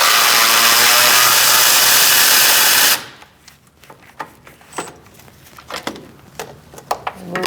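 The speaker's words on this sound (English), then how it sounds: "I'm going to go the rest of the way with my battery operated ratchet." A battery-operated ratchet whirs loudly and continuously for about three seconds while backing out a front sway bar bushing bolt on a 2002-2006 Toyota Camry, then stops, leaving light clinks and handling noises.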